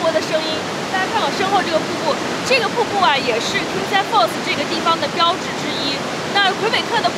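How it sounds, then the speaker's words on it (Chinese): A waterfall at Kingsey Falls, Quebec roars as a constant loud rush of falling water, with a person talking over it throughout. "大家看我身后这个瀑布，这个瀑布啊也是 Kingsey Falls 这个地方的标志之一"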